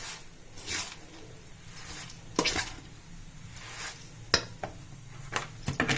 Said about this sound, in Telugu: ఇప్పుడు కలుపుకోవాలండి.